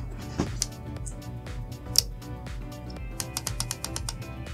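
An Amika High Tide Deep Waver hair styler, just switched on, gives off faint, irregular mechanical ticking and clicking over a low steady hum, with a few sharper clicks scattered through.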